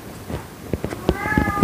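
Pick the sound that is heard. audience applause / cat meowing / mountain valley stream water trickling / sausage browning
cat meowing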